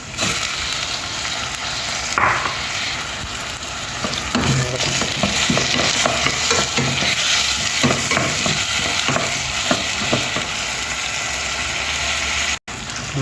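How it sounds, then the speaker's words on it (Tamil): Onions, green chili and tomato sautéing in a pan for dal fry, a steady loud sizzle with repeated scraping stirs of a spoon throughout, no voices. "வெங்காயம் நல்லா வதங்கணும்"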